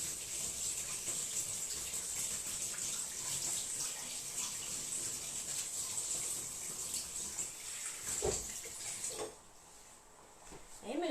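A kitchen tap runs cold water in a steady rushing stream for several seconds, then cuts off into quieter clinks and handling sounds near the end.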